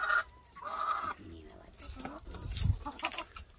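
Chickens and roosters cluck and call on a farm in short bursts, fairly near, with a goose-like honk rising toward the end and light rustling between calls.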